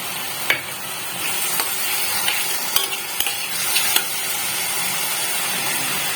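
Spice mixture frying in oil for dhaba-style paneer curry, a continuous sizzle with intermittent stirring scrapes and a few sharp clicks from the pan.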